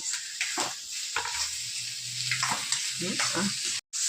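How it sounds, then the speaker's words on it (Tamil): Onions sauté with tomato in a pan for radish chutney, giving a close, steady sizzle broken by spatula stirs and scrapes, with faint voice traces here and there. "இந்த டைமில் வெங்காயத்தையும் போட்டு கொஞ்சம் வதக்கணும்"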